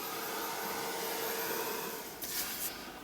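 Hair dryer drying acrylic paint splatters, a steady whooshing blow held at constant strength, close and alone, with a slight shift in tone near the end as the dryer moves.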